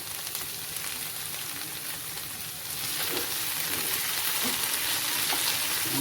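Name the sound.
chicken with spring onion greens frying on the stove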